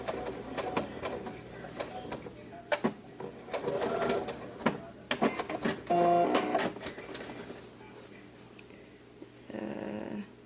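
A home sewing machine stitches a vintage-style summer dress, running in short uneven bursts of rapid mechanical clatter with pauses and handling noises between.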